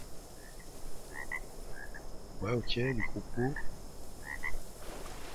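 Large frogs or toads in the game ARK Survival Evolved croak in a few deep, rhythmic bursts over ambient insect-like chirps, with someone speaking briefly over them.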